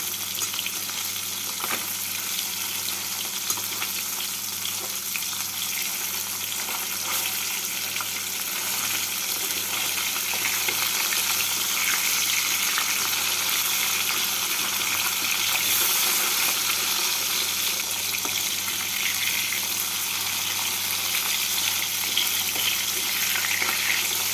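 Small rohu fish pieces fry in mustard oil in a wok, giving a constant, dense, close sizzle and crackle that runs unbroken throughout with no one speaking.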